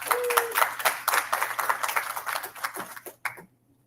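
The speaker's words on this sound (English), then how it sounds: "Everyone, round of applause for her." A hackathon demo audience claps in a lively patter of individual hand claps that thins out and stops near the end, leaving brief quiet.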